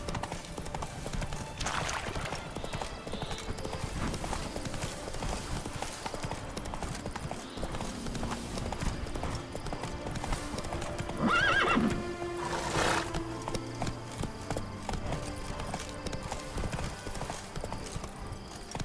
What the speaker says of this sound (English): Keep calm! Come on, Roach.